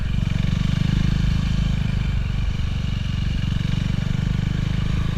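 A motorcycle being ridden gives a steady, close low engine drone with a rapid throbbing pulse and dense wind rumble, holding an even pitch throughout.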